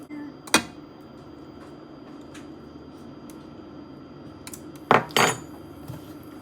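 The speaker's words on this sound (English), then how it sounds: "just gonna mix that in and taste it" A spoon scrapes and clinks against a metal pot while Mexican spaghetti is stirred, with one short clatter early on and a cluster of louder knocks near the end over a quiet, steady background.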